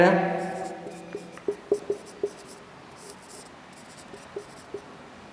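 Chalk writing on a board during a science lesson, a few short taps and strokes after a spoken voice fades, then scattered light scratches in a quiet room.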